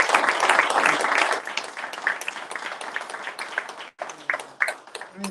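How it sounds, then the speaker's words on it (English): An audience at a Black Business Economic Forum applauding presenters, a burst of clapping loudest at the start that thins out over a few seconds, with voices mixed in underneath. "Let's give all our presenters a round of applause."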